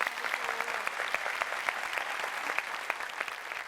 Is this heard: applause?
yes